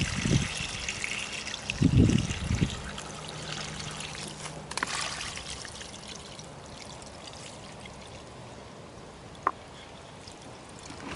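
Waste water, fatty from kitchen scraps, is tipped out of a scraps bucket as a steady splashing pour and trickle lasting several seconds, with a few louder gushes near the start and no talking.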